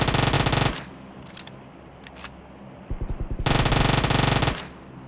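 Rapid automatic gunfire from PUBG Mobile comes in two loud sustained bursts, with a shorter quieter run of shots between them and dull ambience in the gaps.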